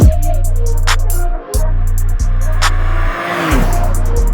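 A 2023 BMW M2 with an 8-speed automatic, heard from inside as its engine drones loudly and steadily, dipping briefly at gear shifts before pulling on again, with no one talking.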